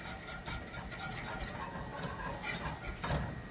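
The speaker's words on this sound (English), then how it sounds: "We're whisking it until it's thickened." Sauce being whisked in a pan until thickened and boiling, a quiet, continuous scraping and rasping rhythm of the whisk against the pan, close and steady, no voices.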